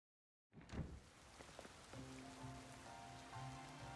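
Rain in a video game, starting abruptly after a short silence and settling into a steady, soft patter on surfaces, with a low hum coming in under it.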